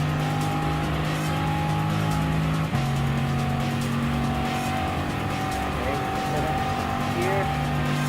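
A race car in Gran Turismo Sport drives at high speed with a steady engine drone and shifting tones, plus occasional tire squeals, continuous and loud throughout.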